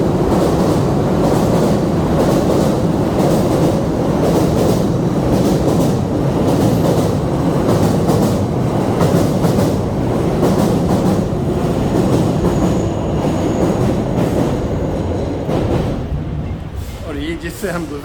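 Trains roll along elevated tracks between Ginza and Tokyo Tower, a loud, continuous rumble with rhythmic wheel clatter, fading slightly at the end, while someone talks over it.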